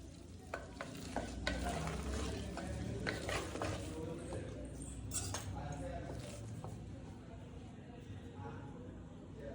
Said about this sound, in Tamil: அரிசி நல்லா கொலையா வந்திருக்குது லேசா மசிச்சு விட்டுக்கலாம்